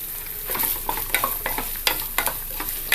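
Coconut pieces fry in ghee for rice payasam. A steady sizzle runs under repeated scraping stir strokes of a spoon against the pan, about two or three per second.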